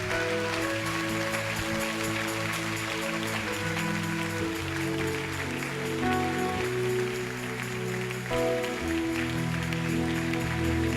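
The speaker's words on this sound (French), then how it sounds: "Soit pas applaudir, applaudis plus fort, plus fort" A church congregation applauds steadily in a dense, continuous wash of clapping, with sustained musical tones or voices running underneath throughout.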